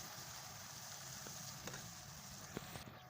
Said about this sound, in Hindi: हम 1 चम्मच भर के लहसुन ऐड कर देंगे और इसको तकरीबन 2 मिनट तक पकाएंगे